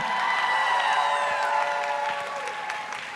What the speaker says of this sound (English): How about a round of applause for Delia